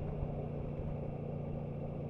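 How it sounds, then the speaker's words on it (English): Motorcycle engine chugging at low revs after an upshift, around 2000 rpm, a steady low rumble with a lugging throb, close and continuous with no talk. "you can hear the engine is just about not liking it. It's just about chugging."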